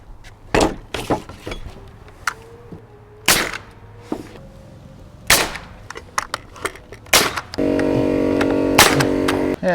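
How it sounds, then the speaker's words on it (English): Pneumatic nail gun driving nails into wood framing for the rim beams and blocking of a cabin build, a series of sharp, loud, separate cracks with irregular gaps, then a steady hum of a running compressor near the end. "Got my tools, got my nail gun."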